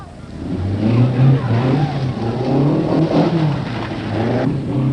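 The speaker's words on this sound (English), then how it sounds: "Rano Aaltonen was next through the water, and his Datsun was purring like a kitten" A 1977 Datsun rally car crosses the Bellinger River during the Southern Cross Rally, its engine humming smoothly and loudly nearby with rising and falling revs under a narrator's voice.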